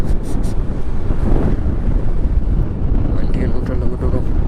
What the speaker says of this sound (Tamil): இந்த கடல் அடிக்கிற அடியை மட்டும் பாருங்களா, எவ்வளோ ஆக்ரோஷமாக இருக்குன்னு